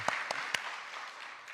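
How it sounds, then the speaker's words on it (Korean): In a church during an afternoon worship service, the congregation claps to encourage the choir. Three distinct claps ring out, then a soft wash of applause fades away. "우리 한나 찬양대 한번 격려하는 박수 한번 하겠습니다"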